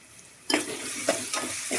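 Tomato and ginger-garlic paste fry in a pan for chicken biryani, a loud close sizzle that bursts in suddenly, with repeated stirring scrapes through the hiss.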